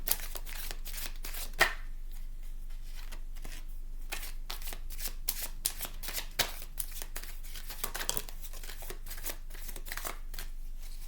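Tarot cards being shuffled in quick repeated riffles and taps, close and fairly quiet, with no talking.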